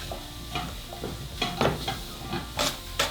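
Sliced leek hits a hot pan for a vegan fish pie, giving a close, soft sizzle with bursts of crackling and scraping as it is stirred, no talk over it.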